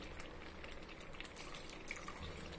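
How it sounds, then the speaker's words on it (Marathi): Water splashes and pours steadily into a cooking pot of barnyard millet for a few seconds, quiet and close, with no talking. "उरलेले पाणी पूर्ण टाकत आहे मी"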